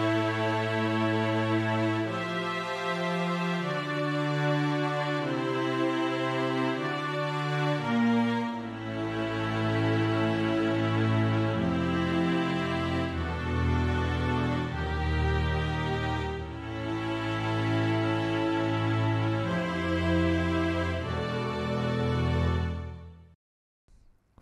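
Sustained legato string ensemble from the Ableton Strings Ensemble Legato Pack, lightly compressed and EQ'd, playing a full, continuous chordal passage with slowly shifting harmonies for over twenty seconds before fading out; no voices.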